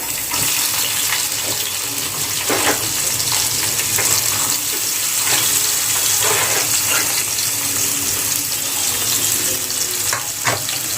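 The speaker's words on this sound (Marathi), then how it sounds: "कांद्याला आपण चांगलं फ्राय करून घेऊया छान असा कलर येईपर्यंत" Onion fries loudly with cumin, mustard seeds and curry leaves in a pan, a dense constant sizzle with occasional stirring scrapes and no voices over it.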